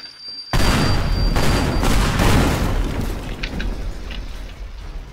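A loud bomb explosion in Teardown bursts out suddenly after a quiet start, followed by a long rumbling roar of collapsing debris that slowly fades, with no voices.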